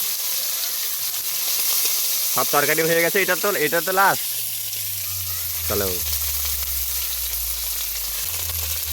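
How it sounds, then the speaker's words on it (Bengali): Soaked dried fish (shutki) frying in hot oil in a home kitchen, a steady soft sizzle running throughout beneath someone speaking briefly. "দেখো শুটকি মাছটা ভাজা হচ্ছে বন্ধুরা।"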